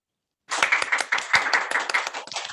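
A small conference audience claps after a talk on verifying autonomous robot systems: brisk, fairly close applause starting abruptly and holding steady for a couple of seconds with no voices.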